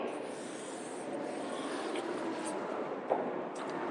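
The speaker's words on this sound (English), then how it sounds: "I will write his name" Marker or chalk scraping steadily across a classroom board as a name is written, a continuous soft rubbing hiss with one small tap near the end, fairly quiet and with no talking.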